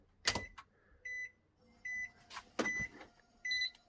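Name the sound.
Suzuki Swift ZC31S ignition switched on with turbo timer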